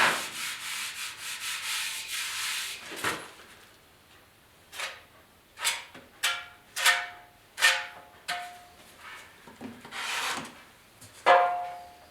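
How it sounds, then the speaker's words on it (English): Body filler is scraped and spread over dents on a 1974 Yamaha RS 100 motorcycle tank, an opening long rasping stroke followed by a series of short separate spreading swipes with pauses between them. "Throw some filler on now."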